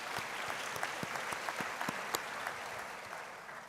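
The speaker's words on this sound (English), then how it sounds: "I also want to give you a round of applause." Applause at a university autumn graduation ceremony, a soft, distant wash of clapping with a few sharper individual claps, even and sustained with no talking.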